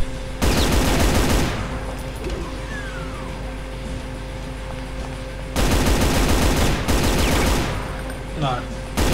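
Gunfire from Brutal Doom running on FreeDoom in GZDoom, level E4M3 Central Computing: two dense bursts of rapid automatic shots, loud and close, separated by quieter game ambience with a steady hum.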